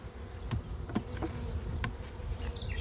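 A steady, dense hum of honeybees buzzing around a freshly split hive during a strong nectar flow, close and continuous, with a few individual bees zipping past nearer the ear.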